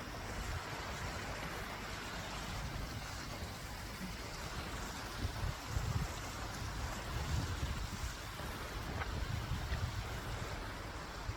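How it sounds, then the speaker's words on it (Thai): Water rushes steadily down a mountain stream in the Swiss mountains, a dense, continuous roar close by with faint wind, and no talking. "น้ำไหล"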